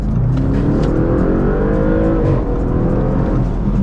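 An Audi RS6 accelerates hard out of traffic, its engine rising steadily in pitch as it pulls away, loud and close from inside the car with no talking.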